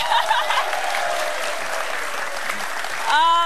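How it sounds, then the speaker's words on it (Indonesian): Studio audience at a televised Indonesian talk show on choosing legislative representatives applauds in a dense, continuous burst, with a brief voice or tone surfacing near the end. "Tepuk tangan lagi dong"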